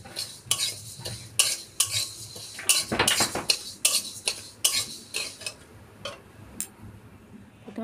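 Moong dal being dry-fried in a pan for sabudana khichdi, heard as sharp repeated metal clinks and scrapes of a spatula stirring against the pan, with a faint sizzle underneath.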